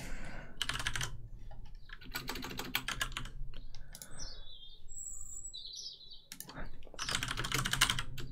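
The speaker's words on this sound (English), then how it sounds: "I'm clicking all the wrong things today." Computer mouse and keyboard clicks during a Cubase music-software session, coming in several quick clattering bursts separated by quiet gaps, with faint chirping sounds in between and no talk.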